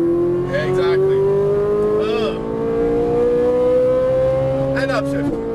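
A Ferrari 458 Italia at full throttle, its engine note climbing steadily and loudly in one long pull, with voices talking over it.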